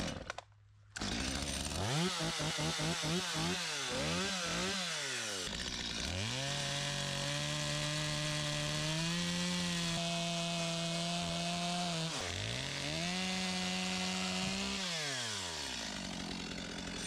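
A Stihl MS250 chainsaw revs loudly and up close, with a burst of quick throttle blips before settling into long sustained cuts through wood during restoration work on an old boat named Maverick. No voices are heard.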